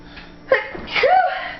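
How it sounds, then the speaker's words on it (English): One sudden sneeze, close and fairly loud, with a short breathy intake beforehand and a voiced trailing sound after. "I am about to sneeze."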